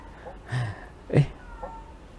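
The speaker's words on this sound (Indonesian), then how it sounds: "kucing di luar" A cat meows twice outdoors, somewhat distant, with a quieter third cry trailing off against low background noise.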